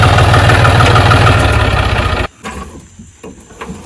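A tractor engine in a cotton field roars loudly and steadily at close range, then cuts out abruptly, leaving quieter rustling and knocking sounds.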